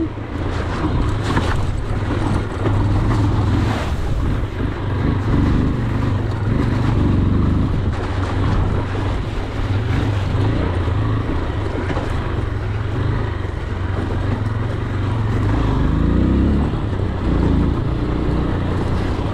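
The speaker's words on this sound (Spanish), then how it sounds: "la moto suena muy como que da la sensación que fuera una moto un poquito más grande" A 2023 AKT TTR 200 motorcycle riding off-road on a dirt trail, its engine droning steadily and loudly throughout with shifting pitch under constant wind noise, no speech.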